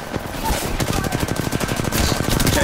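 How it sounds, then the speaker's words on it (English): Rapid automatic gunfire in Apex Legends while shooting at enemies, a dense, evenly paced stream of loud shots close by, with brief faint game sounds mixed in. "shoot this guy, shoot this guy, shoot these guys"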